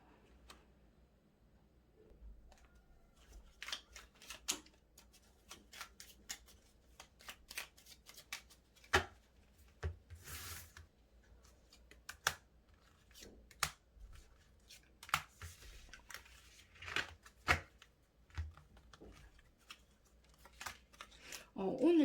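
Tarot cards being shuffled and drawn at a table, heard as close, soft riffles, flicks and taps spread irregularly across the stretch, with someone speaking Korean quietly in between.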